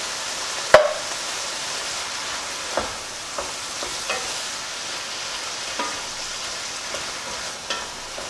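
Tomatoes frying in a pan for biryani give a steady close sizzle, broken by occasional stirring knocks and clinks of a utensil against the pan.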